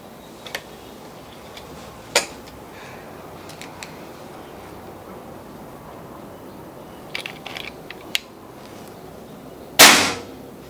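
A sharp, loud crack from a Bocap Predator 500cc air rifle near the end stands out after several faint mechanical clicks and ticks in a quiet room.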